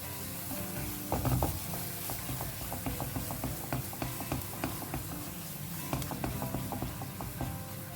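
A spoon stirring paneer tikka masala gravy in a pan over a medium flame, with a soft steady sizzle under repeated light scraping and tapping strokes, close and fairly quiet, no talking.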